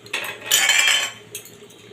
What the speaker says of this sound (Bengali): এই ঢাকাটা খুলে দেখে নিচ্ছি।